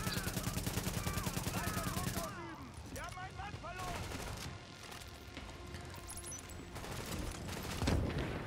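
Sniper fire and bursts of gunfire crack in The Division, with a rapid string of shots at first, then scattered reports and impacts while players talk over the action.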